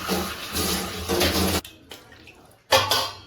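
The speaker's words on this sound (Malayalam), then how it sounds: "എന്താ സാർ വെള്ളം തട്ടിയിടുന്നേ?" Water splashes and pours in loud bursts, broken by a quiet pause and a few small drips before another splash.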